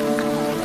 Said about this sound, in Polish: Ach, ale okropnie leje